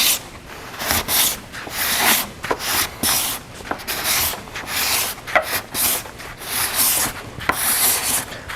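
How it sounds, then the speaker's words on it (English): Card scraper shaving across a live-edge wood slab tabletop in steady, rhythmic rasping strokes, close and continuous with short breaks between passes. "the card scraper cuts quickly, it doesn't clog up, and it gives me that feel for the work that I'm doing"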